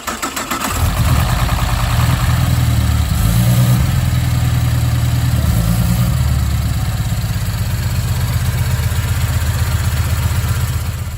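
A car engine idles steadily and close up after a throttle body install, a dense low rumble holding even for about eleven seconds, with no talk over it.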